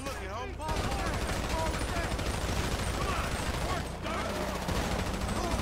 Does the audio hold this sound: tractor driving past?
no